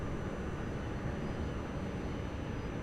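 Steady broadband engine roar of an airplane taking off at Lisbon Airport, loud and continuous with no talk over it.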